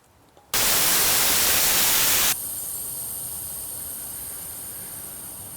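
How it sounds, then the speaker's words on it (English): Air rushing from a deflated spare car tire as the valve is pressed with a screwdriver: a sudden loud hiss lasting about two seconds, then a softer steady hiss that lingers. "So I'm going to deflate it first using this screwdriver. I'm gonna let all the air out as much as possible."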